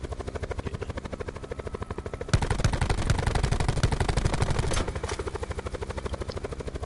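A helicopter's rotor thrum pulses steadily in a Call of Duty Blackout match, mixed with bursts of rapid gunfire that grow louder for a couple of seconds in the middle.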